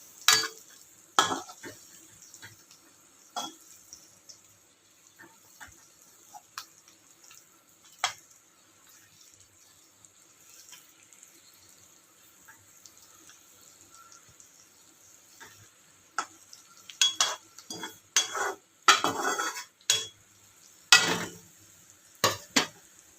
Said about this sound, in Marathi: मस्त भाजत आहे छानपैकी